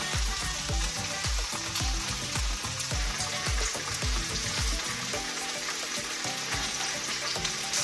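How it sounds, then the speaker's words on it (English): Chicken pieces sizzle and fry steadily in a hot pan while browning for a stuffed spinach-artichoke chicken recipe, a loud dense crackle with faint rhythmic clatter beneath, no talking. "now we're gonna place our chicken in the pan. We're gonna leave these in here to brown for about 5 minutes on each side"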